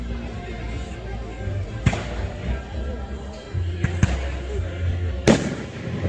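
Fireworks show, with scattered sharp bangs and crackling bursts over a constant low rumble of background noise, loud and fairly close, and people murmuring faintly between the explosions.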